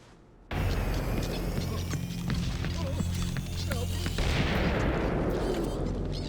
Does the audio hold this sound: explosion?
yes